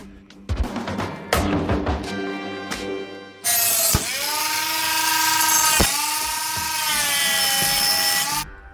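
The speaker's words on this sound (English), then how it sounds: "I have to grind away some of the material here" An angle grinder grinds away material from a metal gate, loud and close, with a few short bursts and knocks before a sustained high whining grind.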